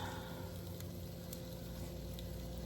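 Kielbasa and vegetables sizzling in a single layer in a skillet, a steady soft frying hiss that continues evenly throughout with no talk.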